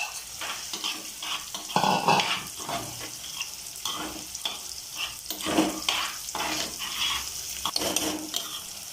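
Prawns sizzle and crackle in a hot pan for Kerala-style prawns perattu, with repeated scraping and stirring bursts over a steady frying hiss.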